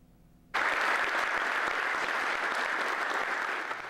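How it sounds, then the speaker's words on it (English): A crowd applauds Afghanistan veterans being welcomed home from their overseas tours, with loud, dense clapping that starts abruptly and holds steady to the end. "Applause and many thanks were exchanged between Afghanistan veterans as they were welcomed home from their many different tours overseas."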